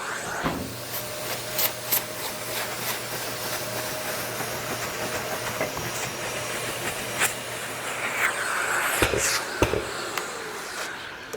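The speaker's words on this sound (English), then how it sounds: "I'm just going to vacuum like I normally would in a normal maintenance cleaning" A steady, hissing drone from a Tornador vacuum cleaner on a car floor mat runs throughout, with occasional sharp clatters and rattles as the nozzle moves over the carpet, close by.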